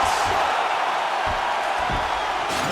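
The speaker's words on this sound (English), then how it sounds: "So the crowd voicing its appreciation after that round." Crowd cheering after a round in EA Sports UFC 4, a heavyweight bout, heard as a dense, loud, continuous roar of arena noise with a few thumps underneath.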